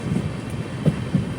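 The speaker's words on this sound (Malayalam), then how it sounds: "ട്രെയിൻ ഇപ്പോൾ ഹൊജയ് റെയിൽവേ സ്റ്റേഷനിലേക്ക് ഇതാ എത്തുകയാണ്" A passenger express train pulling into Hojai railway station gives a low, continuous rumble with a few soft thuds of wheels and carriages, steady and close.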